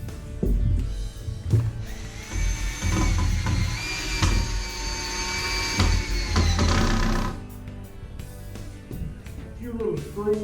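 A power drill drives screws into a wooden bushcraft bed frame, whirring steadily for several seconds before stopping, with short bursts of handling noise afterward.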